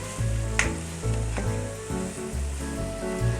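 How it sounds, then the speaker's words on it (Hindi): Sliced onions fry in hot oil for a crispy finish, destined for a chicken korma, giving off a loud, steady sizzle with a rolling, pulsing texture from stirring, close by and without speech. "ऐसा करने से हमारी प्याज बहुत अच्छी क्रिस्पी फ्राई होगी"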